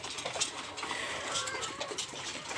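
Golden Misri hens cluck in a busy chorus of short, overlapping calls, fairly close, with steady farmyard noise underneath and no talking.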